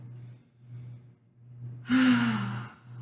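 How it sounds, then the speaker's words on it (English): A single slow deep breath taken during a yoga session, a soft audible inhale swelling and fading over about a second against a faint low hum. "We're gonna take 4 breaths here, so keep on breathing with me."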